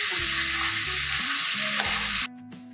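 Spices and ingredients for paneer butter masala frying in oil in a pan, giving a loud, continuous close sizzle that cuts off abruptly near the end, with faint music underneath.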